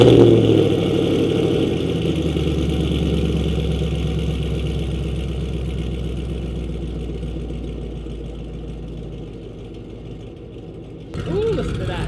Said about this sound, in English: get a cold start of his car